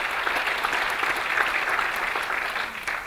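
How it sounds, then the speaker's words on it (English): Steady applause from an audience at a community elevator pitch competition fills the room, dense and even throughout with no voices over it. "So how about a round of applause for all of the organizations that made this"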